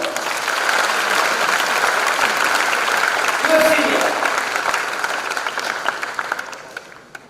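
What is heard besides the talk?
audience applause for a senior student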